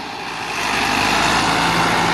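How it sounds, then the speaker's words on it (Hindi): A Massey Ferguson 385 tractor engine runs steadily nearby, a continuous broadband rumble that swells slightly and then holds level, with no talk. "आपके सामने मैसी 385 ट्रैक्टर है"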